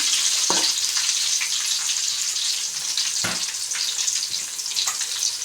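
Curry leaves fry in hot oil for a spicy chicken rice dish, giving a loud, continuous hiss and crackle with a few sharp clicks of a utensil against the pan, up close and without speech.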